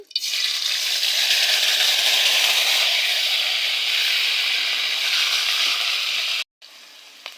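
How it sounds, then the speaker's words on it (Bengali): Ground spice paste sizzles steadily in hot oil in a wok (kadai), a loud continuous hiss that cuts out abruptly near the end, then resumes more quietly. "মশলাটা প্রায় ভাজা ভাজা হয়ে গেছে"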